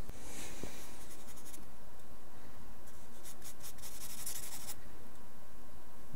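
A pencil scratching across paper while sketching the shape of hair, with close, continuous strokes and several brighter bursts of quicker scribbling, no voices.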